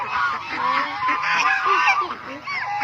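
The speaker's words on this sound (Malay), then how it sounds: "tu itik, itik tu pun nak cari makanan" Several ducks call in a noisy, overlapping chorus of nasal honks and quacks, close by and continuous.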